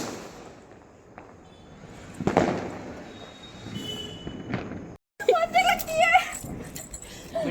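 A Diwali rocket firecracker is set off outdoors, giving a few sharp bursts followed by a crackling, whistling flurry, with people talking throughout.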